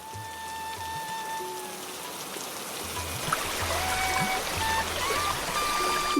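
Light drizzle falls over a pond as a steady, soft hiss that grows slightly louder toward the end, with faint sustained musical tones underneath.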